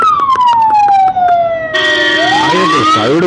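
An ambulance siren passes close by, loud and near, its wail sliding down in pitch, then switching to a rapid yelping pattern, over road and engine noise.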